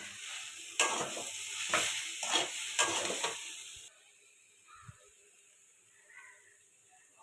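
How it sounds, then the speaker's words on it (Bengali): Banana stem frying in a pan is stirred in several loud scraping, sizzling strokes for about four seconds, then the sound drops to a faint, quiet hiss. "একটু নেড়ে দেব।"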